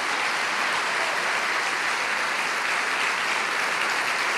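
Steady, dense applause from a church congregation, a continuous even wash of clapping that fills the whole moment with no talk over it.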